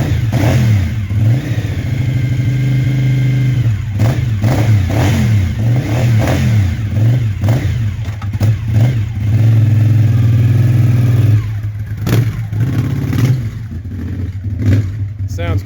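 A Cagiva V Raptor 2000 motorcycle engine revs repeatedly, loud and close, its throttle blips rising and falling in bursts with short idling gaps between, with a few voices talking briefly.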